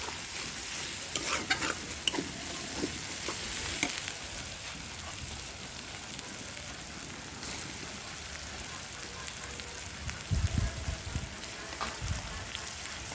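Spice masala is stir-fried in a pan with a continuous soft sizzle and crackle, while scraping stirs come and go, growing busier and louder toward the end, all at a moderate, close distance.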